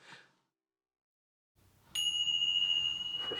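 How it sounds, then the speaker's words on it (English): A bass gong is struck once, leaving a sustained bright metallic ring that hangs steadily after a brief quiet pause. "Gong bass."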